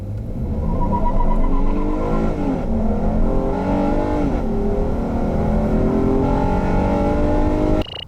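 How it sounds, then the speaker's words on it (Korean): A 2018 Honda Odyssey minivan accelerates hard, its engine note climbing steadily through gear changes with a sustained loud drone heard from inside the cabin, with no talking. "여기서 잠시 오디세이의 가속 성능에 대해서 한번 알아볼까요?"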